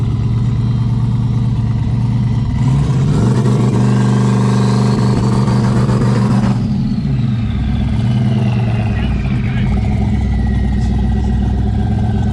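Drag car engine revving hard against the trans brake, a loud, steady rumbling drone that climbs in pitch midway before settling back, close and continuous with no talk.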